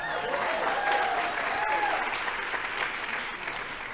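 A dinner audience at an Asian American foreign affairs association leadership event applauds loudly, a dense, steady wash of clapping that holds for the whole stretch with only a slight fade toward the end.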